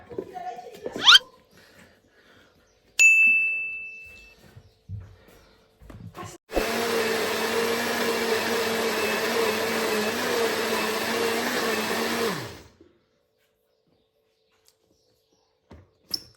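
A blender motor runs steadily for about six seconds, a loud whirring drone that cuts off abruptly, with brief clatter and voices before it.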